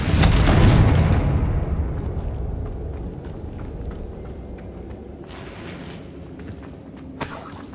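Confringo fire spell from Hogwarts Legacy, cast inside a goblin mine: a loud booming blast that rolls into a long, decaying rumble, with scattered debris clatter and a small pop near the end, no talking.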